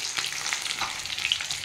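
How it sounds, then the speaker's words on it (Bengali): A fish head frying in oil in a pan gives a steady, close sizzle with crackling pops and spits throughout, and no one speaks over it. "মাছটা ভাজতে দিয়ে দিয়েছি"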